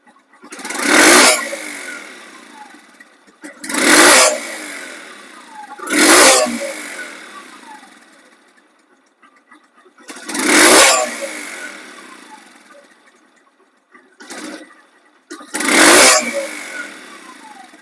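A 2024 Suzuki Hayate 100cc motorcycle, nearly new, revs loudly up close in six separate throttle blips, each rising and falling back to a quiet idle between bursts.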